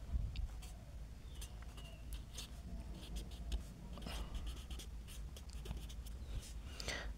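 Pen scratches on paper as math is written out, faint and soft with short repeated strokes, accompanied by a low background hum.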